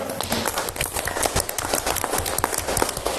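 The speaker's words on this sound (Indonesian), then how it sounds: "Coba tepuk tangan dulu dong." A group of students clapping together in a classroom during a group guidance session, busy overlapping hand claps that stay fairly loud and close throughout.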